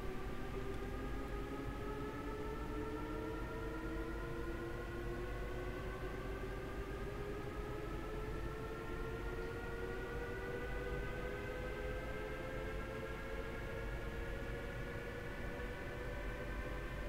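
A Leipzig rapid-transit train in Train Sim World 2020 pulling away into the City Tunnel, a steady rumbling drone with rising motor whine that climbs in pitch as it accelerates, continuous and fairly quiet throughout.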